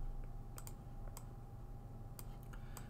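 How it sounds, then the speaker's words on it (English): Quiet computer keyboard typing, a few sparse, faint key clicks scattered over a low steady background hum. "and we'll type in branch here."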